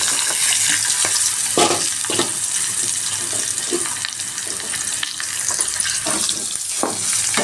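Green chillies and chopped onions fry in a pan for an egg garlic dish, giving a steady close crackle and sizzle with occasional stirring scrapes and no voices.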